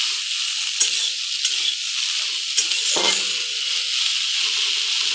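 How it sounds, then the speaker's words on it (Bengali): Salted pumpkin leaves hiss and sizzle steadily in a hot pan while a spatula stirs them, scraping with occasional sharp knocks against the metal, close and fairly quiet, with no voices. "এবার এটাকে ভালো করে মিশিয়ে ভেজে নেব।"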